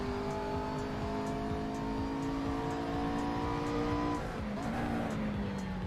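A race car in the Assetto Corsa video game drives alone with a loud, steady engine drone that holds a high pitch, then drops as it shifts or brakes near the end, with a light tire squeal.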